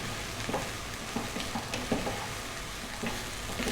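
Onions and ginger stir-fried over high heat give a continuous sizzle broken by frequent clicks and scrapes of a utensil turning them in the pan, with no talking.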